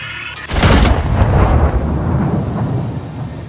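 A Warhammer 40k knight's thermal cannon fires as an audio-drama effect, a sudden heavy boom with a sharp crack that rolls into a long, low rumbling decay.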